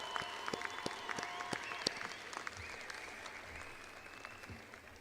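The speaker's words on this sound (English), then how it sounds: "Graduates, give them a big round of applause" Graduates at a university commencement give their families a big round of applause, a steady wash of crowd clapping with a faint, distant tone lingering under the noise.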